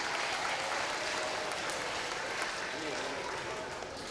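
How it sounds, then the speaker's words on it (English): Kindergartners at a school reading challenge event get applause from the gathered audience, a steady wash of clapping with crowd murmur mixed in, moderately distant and even throughout. "Let's give our kindergartners a big round of applause."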